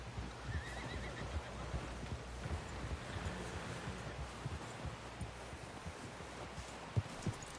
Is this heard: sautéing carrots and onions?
no